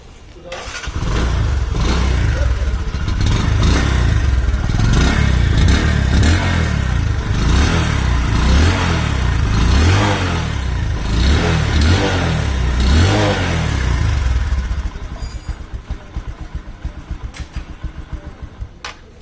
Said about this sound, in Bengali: আপনাদেরকে যদি দেখায় বাইকটির সাউন্ড কন্ডিশন তাহলে আরও একটু বুঝতে পারবেন আপনারা